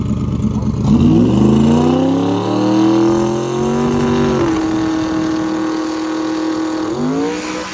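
A Honda Integra drag car launches down a drag strip, its engine revving up loud and close through rising gears, then holding a steady high drone before a final upshift.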